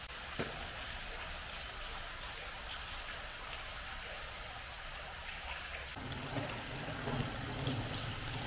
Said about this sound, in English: just listen to the water drops, there's even more.